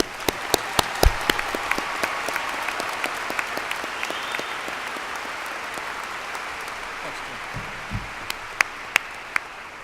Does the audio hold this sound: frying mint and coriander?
no